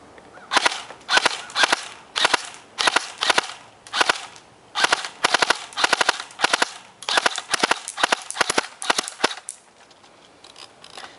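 A G&G Combat Machine M4 blowback airsoft rifle fires BBs in quick bursts of sharp, snappy cracks with mechanical clacks, loud and close, pausing briefly between strings before tapering off near the end.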